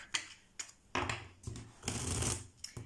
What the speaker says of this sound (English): I need to shuffle this deck.